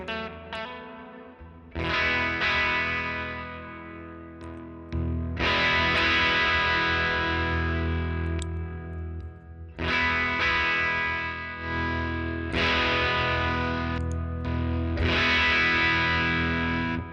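Electric guitar through a JHS Kilt V1 fuzz pedal rings out in thick, saturated strummed chords, four long sustained strikes that decay slowly, with no talking.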